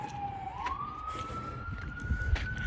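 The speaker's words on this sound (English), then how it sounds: "Oh, here comes an ambulance." An ambulance siren passing along a street while someone walks home, a steady wailing tone that rises in pitch midway and carries on over faint traffic noise.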